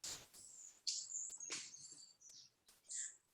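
Small birds such as warblers, sparrows and brush finches chirp and tweet at feeders in Ecuador, a series of faint, high, separate calls with quiet gaps between them.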